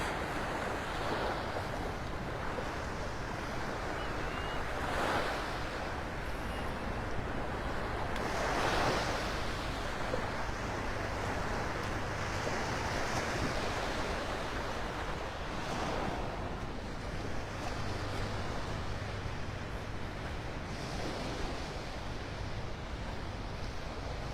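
Ocean waves wash onto the beach at Delnor-Wiggins park in North Naples, Florida, a continuous soft surf roar with gentle swells every few seconds and light wind noise, no voices.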